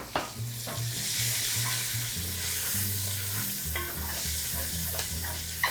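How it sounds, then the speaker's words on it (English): Onion sautés in a pan with a steady, close sizzle while a utensil scrapes and stirs repeatedly across the bottom, over a low background hum and with no talking. "then I'm gonna add my onion. Saute that briefly."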